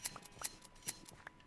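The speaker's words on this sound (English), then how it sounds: "Give them a good shearing." Sheep being sheared with shears in a video game: a few quick, crisp snipping clicks at a steady close range, spaced at short, slightly irregular intervals, with no talk.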